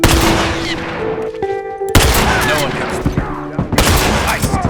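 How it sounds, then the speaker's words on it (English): Tactical shotgun firing in The Last of Us multiplayer, heavy blasts with dense rumbling gunfire and booms, loud and continuous, with voices mixed in under the shooting. "So first up is the tactical shotgun"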